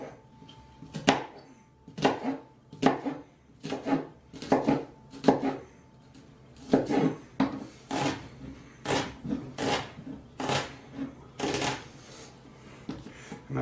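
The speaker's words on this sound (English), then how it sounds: "And that's how you finally chop some onions" Knife chopping onions on a board for crab cakes, about fourteen sharp rhythmic strokes at a steady pace, close and fairly loud, with no talking.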